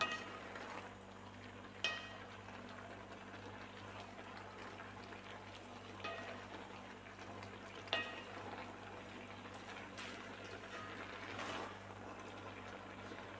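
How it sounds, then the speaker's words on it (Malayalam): Avial vegetables and curd stirred together in a pot, a soft steady bubbling and scraping texture with a few brief sharper clinks of the spoon against the pot, fairly quiet throughout with no talking. "ഇപ്പം ഇതൊന്ന് ഇളക്കി യോജിപ്പിക്കാം"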